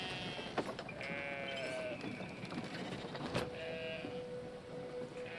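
Sheep in the video game Brothers: A Tale of Two Sons bleat several times in drawn-out, wavering calls over a faint, steady background hum.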